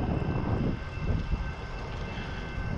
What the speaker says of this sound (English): if that's a freight train